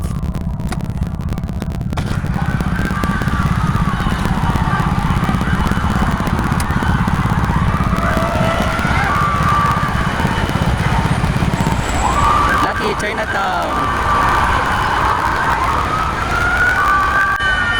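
A police siren wails continuously, rising and falling through its cycles over loud street noise and rumble during Chinese New Year at Lucky Chinatown. A voice speaks briefly.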